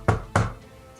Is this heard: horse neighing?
no